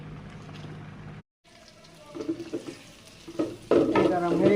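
Garlic and chopped onion dropped into hot oil for tomato dal, a brief dropout followed by rising crackle and sizzle that swells to a loud, dense hiss near the end, close by with scattered utensil knocks.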